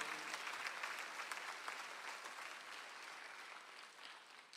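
A church congregation at a Sunday afternoon service claps hard together, a thick, continuous wash of applause that holds steady and then tapers slightly toward the end while remaining fairly faint overall.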